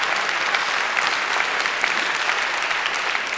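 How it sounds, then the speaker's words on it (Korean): A church congregation clapping together at a dawn revival service, a dense, even wash of applause that holds steady from start to end, close and fairly loud, with no voices standing out. "우리 박수 한번 쳐주세요"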